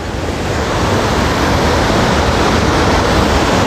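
Strong rushing floodwater at Wawa Dam after Typhoon Ulysses, a loud, dense, unbroken roar of churning water filling the whole scene with no voices over it.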